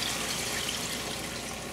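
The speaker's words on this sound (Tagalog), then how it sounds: "Unahin natin dito yung water." Water running steadily into a pot of browned chicken pieces for a Filipino chicken and moringa stew, a close, continuous hissing pour with no voices.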